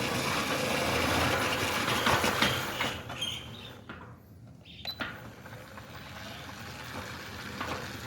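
A Centurion D6 Smart gate motor closing a gate at reduced speed, a low steady mechanical hum and rumble with a few clunks, fairly close, dipping briefly midway before running on, no talking.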